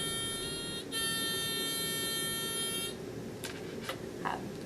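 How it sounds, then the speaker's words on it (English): A high-pitched electronic buzzer sounds twice, a short tone then a longer steady one, followed by a few faint clicks and taps. "A wide array of buzzers you can try out,"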